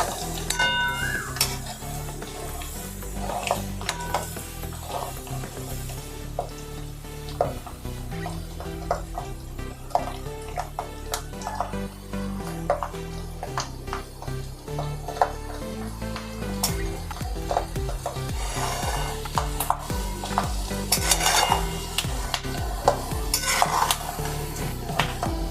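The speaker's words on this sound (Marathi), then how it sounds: "शेंगदाणे छान तळून झाले आहे." Peanuts stirred and fried in hot oil in a pan while making kurmura chivda, with a steady low sizzle under repeated scrapes and clinks of a spoon against the metal. It is close and fairly quiet, with no talking.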